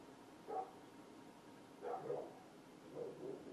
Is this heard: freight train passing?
no